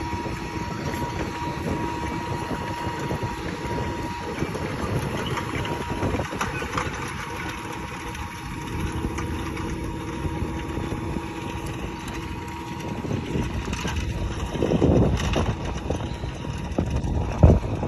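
A heavy tractor engine drones steadily throughout while sowing rapeseed, close and rumbling, with clanking mechanical noise and occasional louder surges near the end.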